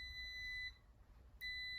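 A digital multimeter set to continuity on a relay in a furnace blower sequencer circuit gives two steady high-pitched beeps separated by a short gap, clear and close over faint background hum.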